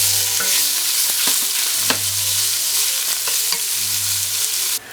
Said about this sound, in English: add some olive oil to my hot pan. A couple tablespoons. I'm going to add 4 pieces of bacon. It's thick sliced bacon.